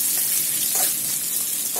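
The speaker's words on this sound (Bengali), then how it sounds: "ভালো করে ভাজছি" Paneer cubes frying in a pan with a little salt, giving a steady, close hiss of sizzling oil that runs evenly from start to finish with no voices.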